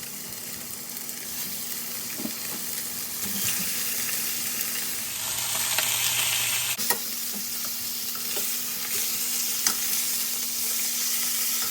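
Chunks of beef stew meat sear in a hot pan for a steady, close sizzle and crackle, with a few soft clinks and shifts of the meat and a brief brighter hiss midway.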